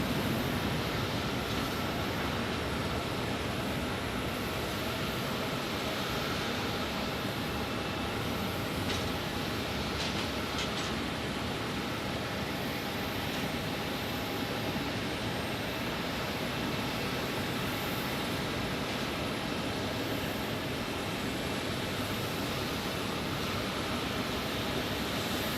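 A Boeing 737-900 airliner arriving from Seattle and landing at Phoenix Sky Harbor airport, a steady broad jet roar holding at constant loudness throughout, with no talk over it.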